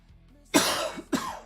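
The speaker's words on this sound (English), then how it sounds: "I'd be so happy to get rid of this bad cough that I've had" A person with a bad cough lets out two harsh, close coughs, the first longer and the second shorter, with quiet room sound before.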